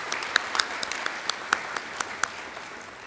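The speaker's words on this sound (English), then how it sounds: "Let's give Todd another round of applause for his time this evening" Scattered hands clap in a modest round of applause at a senior banquet, the crisp claps sounding somewhat distant and fairly quiet, with a few sharper claps standing out over about three seconds.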